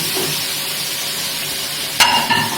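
Spice masala fries in a pan with fried potatoes for a broccoli dish, a steady close sizzle that ends in a sudden loud utensil clatter and scrape near the end.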